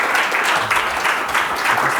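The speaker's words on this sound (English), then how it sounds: "can I have a round of applause for my fellow panellists?" A conference audience in Auckland applauds a panel of speakers with a steady, even burst of clapping that fills the hall.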